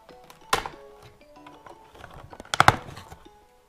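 Blade cutting open plastic packaging around a NERF suppressed pistol blaster, giving a few sharp cracks and snaps, with two distinct loud bursts among quieter rustling and handling noises.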